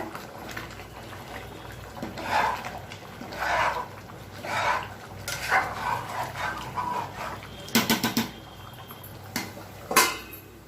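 Ambur chicken biryani is stirred in a pot, producing soft rhythmic scraping strokes about once a second, then a few sharper metallic clinks near the end, all fairly quiet with no talking.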